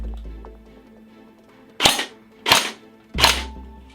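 Three sharp, loud cracks spaced roughly a second apart ring out from an S&T/ARES airsoft PPSh-41 replica fired at a target, each with a short decay over quiet background.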